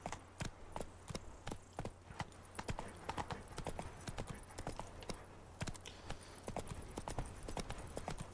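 Horse hooves clip-clopping in a steady galloping rhythm while riding through The Witcher 3 Blood and Wine, loud and close over a low ambient game drone, with no speech.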